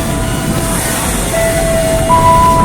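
A commuter train moves at a station: a loud, steady rumble with faint whining tones rising above it, close and continuous, growing slightly louder toward the end.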